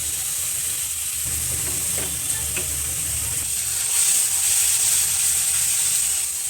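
Mutton sizzles steadily in a pan with lemon juice, a continuous close frying hiss with faint stirring scrapes throughout and no voices.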